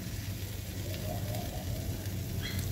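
Thalipeeth, a flatbread of coriander and sesame, sizzles steadily in a pan as oil is poured over its top and around the sides; a continuous close frying hiss with no voices.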